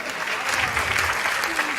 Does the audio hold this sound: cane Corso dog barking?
no